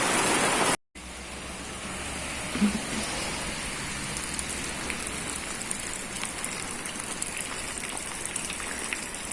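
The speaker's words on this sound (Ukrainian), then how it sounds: "Пішов дощ." Steady rain falling and pattering on surfaces, a dense even hiss that continues throughout with no talking.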